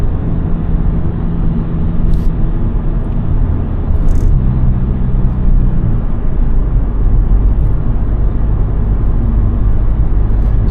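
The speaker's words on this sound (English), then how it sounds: "Driving along the mountain here, like there's a boulevard" Volkswagen Polo GTI 2022 cruising along a mountain road, heard from inside as a steady, loud low engine and road rumble with tire roar throughout, a brief tonal shift midway, no talking.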